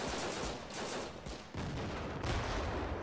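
Rapid bursts of gunfire in the war game Foxhole crackle almost without pause, dense overlapping shots with brief dips at the gaps, loud and close for about three seconds.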